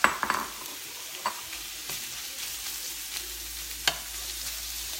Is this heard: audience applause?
no